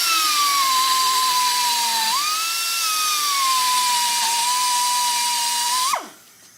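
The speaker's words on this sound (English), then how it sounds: "So I'm going to grind this side in." Power grinder working a Dana 70 pinion bearing flange, one steady close high-pitched whine for about six seconds that wavers slightly in pitch and then spins down abruptly.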